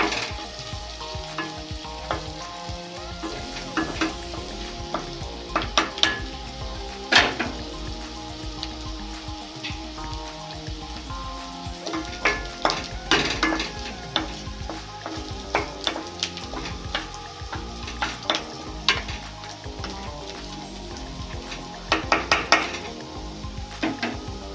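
Onions sizzling in a pan over low to medium gas while a utensil stirs them, with a continuous frying hiss and repeated sharp scrapes and clinks against the pan close by.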